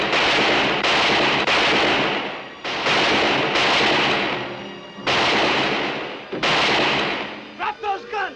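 Repeated loud gunshot blasts from a shootout in a western TV show, long echoing reports in quick succession filling the scene, with a voice briefly heard near the end.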